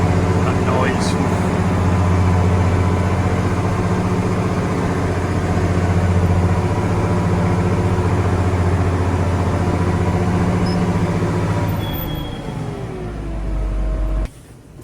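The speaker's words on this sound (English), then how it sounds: "Only half a turn of the engine. Pretty good that for a John Deere." A John Deere 710 tractor idles steadily right after a cold start, a loud low diesel rumble with a constant harmonic drone that dips and shifts near the end before cutting off.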